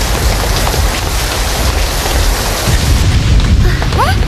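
Steady, loud rain pours down continuously over an old shop with a badly leaking roof, a dense unbroken hiss with no voices.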